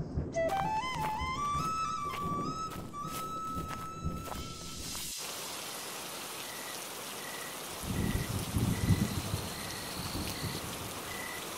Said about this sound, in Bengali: দেখলে তো আবার কি জোরে বৃষ্টি শুরু হলো।